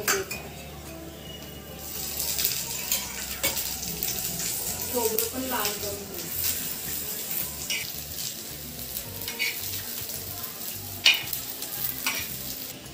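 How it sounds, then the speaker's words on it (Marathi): Grated coconut and garlic fry in a pan for a Khandeshi patodi rassa bhaji masala, giving a close, continuous sizzle with stirring and clinks of a utensil against the pan throughout. "त्यात खोबरं आणि लसूण टाकून तळून घ्यायचं। भरपूर चांगलं तळून घ्यायचं"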